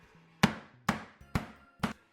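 A hammer pounds raw chicken flat on a kitchen surface for lemon chicken, four sharp, evenly spaced thuds close by with no talk.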